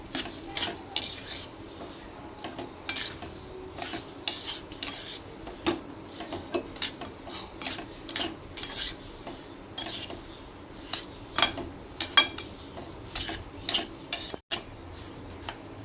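Semolina roasting in ghee over a low flame for rava ladoos, with a spoon scraping and clinking against the pan in an irregular, repeated rhythm of close, sharp taps.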